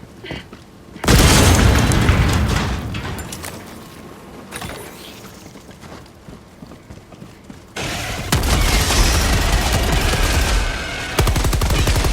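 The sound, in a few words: explosion in the video game Helldivers II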